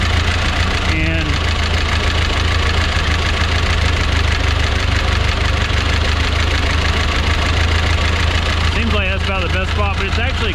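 A 1952 Ford 8N tractor engine idles loud and close in a steady low chugging rumble, with someone talking over it near the start and again near the end.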